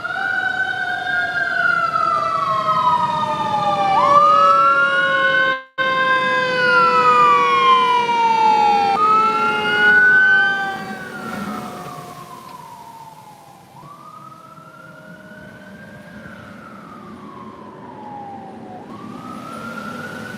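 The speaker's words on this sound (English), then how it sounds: "here comes the fire truck," A loud fire truck siren wails nearby during a strong thunderstorm with flooding in Pennsylvania, its rising and falling tones overlapping as it passes, then cycling more slowly as it moves off.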